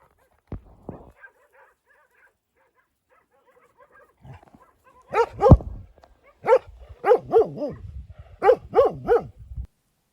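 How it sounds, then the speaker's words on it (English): Stray dogs bark in the distance and then closer, repeated yelps in short clusters over a quiet background with a brief thump early on. "And stray dogs."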